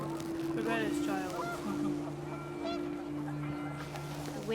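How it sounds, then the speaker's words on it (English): Geese honk repeatedly in the video game What Remains of Edith Finch, panicked calls rising over wind and a steady low drone, fairly faint in the mix. "The wind picked up, and panicked geese appeared and quickly went."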